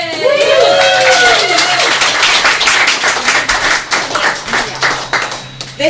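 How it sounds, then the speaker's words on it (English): An open-mic audience gives a poet a round of applause, with dense, loud clapping that swells at first and slowly thins out. Voices call out above it. "So, warm round of applause."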